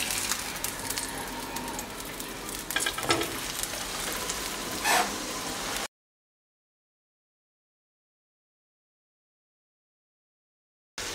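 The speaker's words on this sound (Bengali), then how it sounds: "এই পিঠটাকেও আমি এভাবে চেপে চেপে ভেজে নিচ্ছি।" An egg and vegetable paratha frying in oil in a pan while being pressed down, a soft close sizzle for several seconds before the sound cuts to silence.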